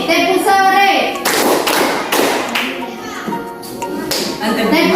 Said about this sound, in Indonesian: Beda lagi, tepuk sore.